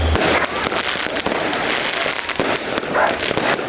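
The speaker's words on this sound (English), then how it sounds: "It seemed to be a case of whose firecracker made the loudest noise or the most colorful display as revelers dug into their collection" Diwali fireworks and firecrackers burst in a street, a dense, continuous crackle of loud pops and sharp bangs with no pause across the whole stretch.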